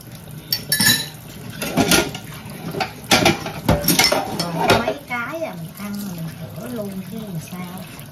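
Dishes, cutlery and pots clinking and clattering as they are stacked into a home dishwasher, loud close knocks and rattles with some running water, while a voice speaks over the later part.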